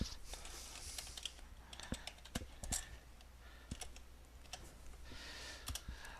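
Rapid keystrokes on a computer keyboard while renaming an item in mind-mapping software, irregular close clicks in short bursts with pauses, fairly quiet.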